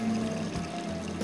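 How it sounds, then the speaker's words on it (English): Sulfuric acid and rinse water pour from a container while gold wire is cleaned, a steady close trickling splash that eases slightly partway through, with no voices. "you can pour sulfuric acid and wash and clean the gold wire with clean water"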